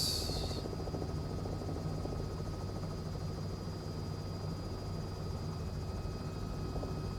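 A simulated Cowansim Robin helicopter flying traffic patterns in Microsoft Flight Simulator 2020, giving a steady, unbroken drone of rotor and engine throughout.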